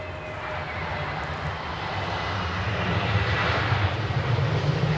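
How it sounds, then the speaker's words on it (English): Engines of an Emirates Airbus A350-900 at Edinburgh airport, a broad continuous roar that slowly swells louder toward the end, heard from a distance outdoors with no talking. "we get a taste of that Emirates A350-900"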